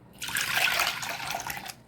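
Water pours steadily into a cooking pot in a short splashy stream for under two seconds, close by, with no talking.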